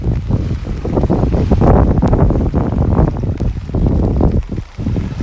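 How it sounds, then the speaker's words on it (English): Strong wind roars steadily across a beach in North Naples, Florida, buffeting the microphone with a loud, continuous rumble that surges and dips without letting up, and nobody talking. "the wind's picking up out here."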